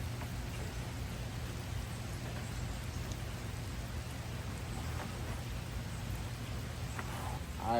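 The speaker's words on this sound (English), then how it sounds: "The bar's kind of wet right now because it's raining" Steady rain falling outdoors on an outdoor workout bar, a continuous dense hiss with a low rumble underneath, moderately quiet and unbroken, with no voices.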